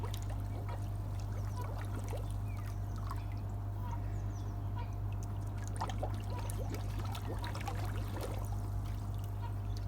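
A swimmer exhales slowly underwater while sinking, giving a quiet, continuous gurgle and trickle of bubbles with no talk.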